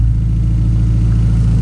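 A 2013 Hyundai Genesis Coupe with a loud exhaust and an RFL blow-off valve, engine held at a steady, heavy idle-rev rumble, close and loud with no voices.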